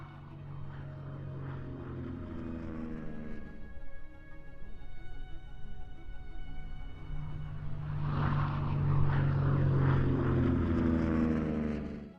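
Propeller engines of P-47 Thunderbolt fighter planes drone steadily with harmonic hum, then swell louder and rougher as the aircraft peel off one after another into a dive, sustained and fairly close.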